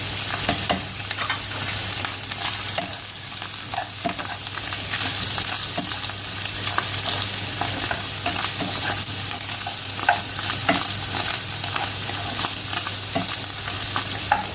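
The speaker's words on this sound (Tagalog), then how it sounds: "We'll keep it until it will be golden fried" Mushrooms with onion frying over low heat in a pan, a close continuous sizzle with repeated scrapes and taps of a stirring utensil throughout, no one talking.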